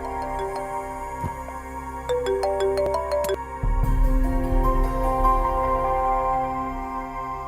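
A mobile phone rings indoors in a domestic drama scene, with a bright, repeating electronic ringtone melody of plucked-sounding notes and ticking accents. It plays loud and alone, with no talking.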